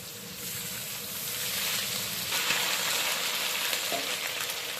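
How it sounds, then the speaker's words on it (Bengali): Onions frying in hot oil for katla fish curry, a steady close sizzle swelling slightly with soft stirring, no voices. "এবার আমি অল্প কটা পেঁয়াজ দিয়ে দিচ্ছি তেলে"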